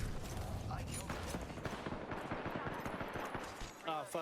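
Rapid, fairly quiet bursts of gunfire from a teammate's fight in Apex Legends crackle continuously in the background over a few seconds, mixed with game ambience and talk.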